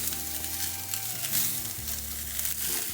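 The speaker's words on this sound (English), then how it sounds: "I'm just toasting the bacon again." Bacon sizzling as it toasts on a barbecue grill beside melting cheese, a close, steady crackling fry with a soft crinkling texture and no talking.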